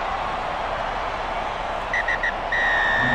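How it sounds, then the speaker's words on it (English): In a rugby video game between Exeter Chiefs and Sale Sharks, a referee's whistle sounds in a few short chirps and then one longer blast, over a steady crowd roar. "the whistle blows, the game is over"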